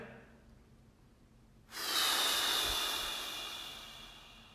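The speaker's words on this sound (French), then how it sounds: "Et soufflez à l'expiration." A deep, sustained exhaling breath during a guided meditation starts abruptly about midway, swells to a loud, close, airy rush and then slowly tapers off, preceded by quiet room hiss.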